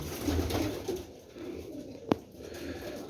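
Black Teddy pigeons cooing in soft low repeated calls, fairly close, with one sharp click or tap midway.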